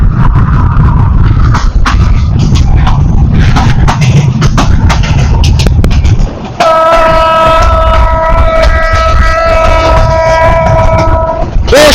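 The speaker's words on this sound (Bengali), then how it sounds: "বেশ জোরে যাচ্ছে কিন্তু ট্রেনটা।" A Shyampur to Rangpur local train runs fast, with loud rumbling and rattling carriages and rhythmic clacks, then a long horn blast sounds over the din near the end.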